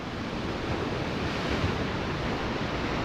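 Ocean waves crashing on a shore as a steady, dense roar of surf with wind buffeting the microphone, loud and continuous with no voices.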